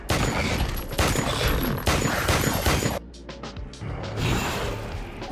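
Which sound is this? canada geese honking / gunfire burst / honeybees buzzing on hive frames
gunfire burst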